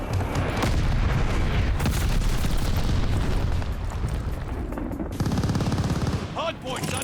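Rapid bursts of Owen submachine gun fire in Call of Duty: Vanguard, loud and nearly continuous across the clip with brief gaps, dense with overlapping game effects.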